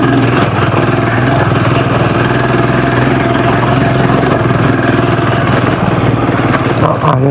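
Royal Enfield Scram 440 motorcycle engine pulling uphill in second gear on an off-road hill climb, a loud, steady low throbbing drone throughout, close to the rider.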